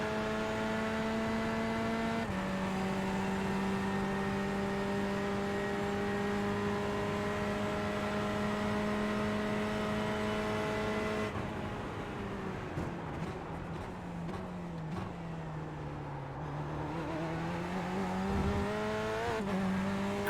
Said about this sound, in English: I'm used to the sound of the engine